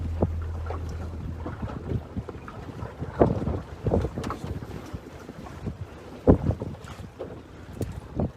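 Strong, gusty wind buffets a sailboat on Lake Travis, with irregular blustery rushes and thumps of wind on the microphone plus faint water and rigging noise, no voices.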